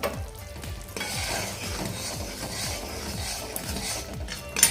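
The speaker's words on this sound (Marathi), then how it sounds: "त्यामुळे आपण परत दोन तीन मिनटं आपण हे असंच हटवत राहूया" Sugar syrup for sesame ladoos being stirred in a pan, with a steady run of scraping strokes against a soft sizzle, close and fairly quiet, with no talking.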